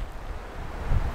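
Steady low rumbling wind buffeting the microphone in Torridon, Scotland, with a stronger gust near the end and no voices.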